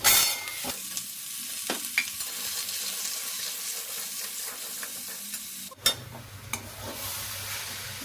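Cabbage with turmeric, chili, cumin and coriander powders stirred in a hot pan, a soft continuous sizzle broken by spatula scrapes and a few sharp clanks, including a louder knock near the end.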